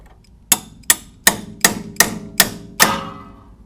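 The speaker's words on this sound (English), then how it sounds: "And we'll just hammer the bolt on out." Seven close, sharp hammer strikes knock a bolt out of the suspension on a 1998–2002 Honda Accord, landing in a steady metallic rhythm with brief ringing tails and no voices.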